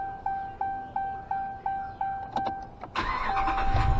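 A 2014 Ram truck with a P0207 misfire is restarted: a door chime pings evenly, then the starter catches and the engine fires into a loud, steady close idle, no speech.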